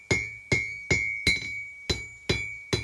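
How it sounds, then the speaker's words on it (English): A hammer striking steel on an anvil while forging a bowl lathe hook, seven evenly spaced bright, ringing clangs with a sustained metallic tone, close and clear. "tipping the hammer over there using the edge of the anvil"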